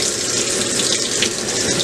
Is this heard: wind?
no